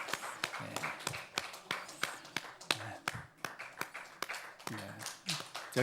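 Church audience clapping during a worship service, a quiet series of sharp, separate claps in a loose rhythm with a voice speaking in between.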